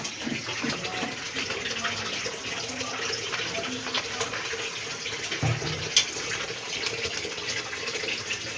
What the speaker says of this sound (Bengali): প্রেসার কুকারটা ধুয়ে একটু জল দিয়ে দেবো।